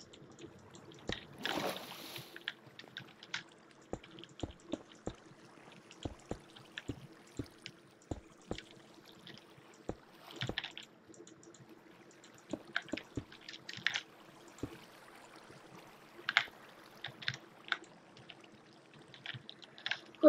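Intermittent trickling, dripping and pouring water from a Minecraft game world, soft sparse drops and splashes spread over a quiet stretch with no talking.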